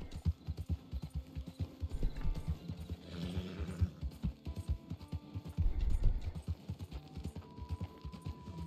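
Horse hooves clip-clop in a steady, rhythmic gait through the Red Dead Online video game, fairly close and moderately loud, with a brief heavier flurry of steps partway through and no talking.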